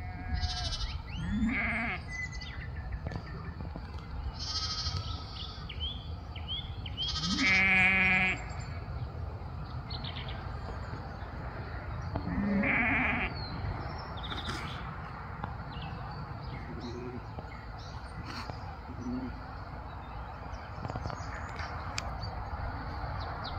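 Sheep bleat repeatedly during lambing season on a farm, several loud calls near and far over a steady outdoor background, with scattered bird chirps and no talking.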